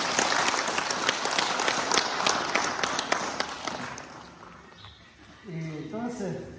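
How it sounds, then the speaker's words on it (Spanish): An audience breaks into strong applause, loud and dense for about four seconds before thinning and fading out. Voices follow at the end as speech resumes. "ya un fuerte aplauso"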